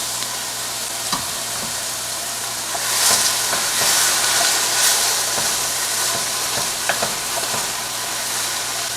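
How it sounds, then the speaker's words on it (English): Chunky pieces of medium onion sauté over medium heat while a utensil stirs them constantly, giving a continuous close sizzle broken by scraping strokes, louder around the middle. "This has been sauteing for about 8 minutes, and I've been stirring it constantly"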